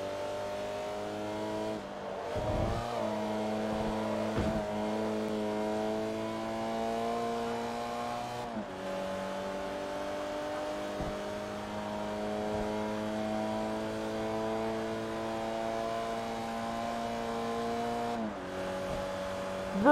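Race car engine in Forza Motorsport 3 revving steadily through the gears, a continuous loud drone with brief dips and rises at each shift and no talking.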